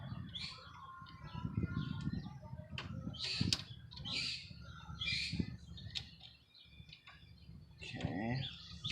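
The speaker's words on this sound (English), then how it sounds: "The neighbor has a bird in a cage. Like we don't have enough birds around here already." A caged bird and other birds chirp and tweet in short bursts through the background, mixed with cooing, while people talk nearby.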